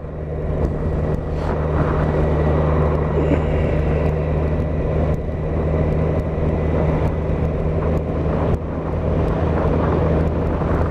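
A 2016 Kawasaki Z1000SX motorcycle cruising at 30 mph in fourth gear around 2,500 rpm, heard as a steady low engine drone mixed with heavy wind rush, continuous and loud throughout with no speech.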